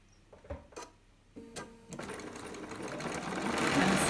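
Sewing machine stitching fabric strips together for quilt binding: a few isolated clicks and short stitch bursts, then a continuous fast whirring run that grows steadily louder.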